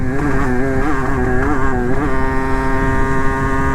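A Yamaha motorcycle runs at high speed near 130 in fourth gear, its engine droning loud and steady with strong harmonics and slight pitch wobbles, up close with no talking.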